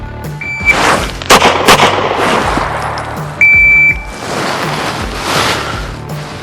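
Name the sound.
pistol gunshots during a pistol qualification course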